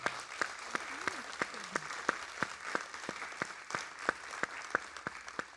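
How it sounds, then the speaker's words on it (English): An audience at a church ministry gathering applauds the speakers with steady, evenly spaced sharp claps standing out over a softer bed of clapping, and a voice briefly murmurs beneath. "Let's give them a round of applause and thank them."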